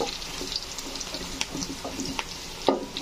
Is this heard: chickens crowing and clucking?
no